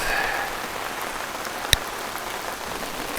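Rain falling outdoors during a bluegill fishing outing, a steady close hiss of drops pattering on surfaces with one sharp tap partway through, no voices.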